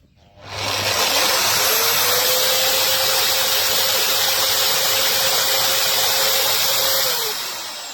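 A MAXXT 820W giraffe drywall sander with its dust bag attached spins up and runs with a loud, steady whining hiss and a constant motor tone, then starts winding down near the end.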